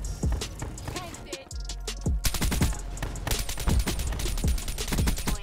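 Rapid automatic gunfire from a KVK or AN-94 in Black Ops 3 rattles out in repeated bursts, loud and close, with short gaps between volleys and sharp individual cracks stacking into kill streaks.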